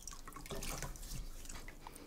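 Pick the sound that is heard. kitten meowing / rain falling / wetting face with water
wetting face with water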